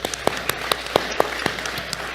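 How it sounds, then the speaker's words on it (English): Scattered hand claps from an audience at an awards ceremony honouring the caterers, sharp separate claps at a steady, fairly quick rhythm for about two seconds, with no talking. "Please join me in giving a round of applause to our exceptionally kind caterers, Taibeh."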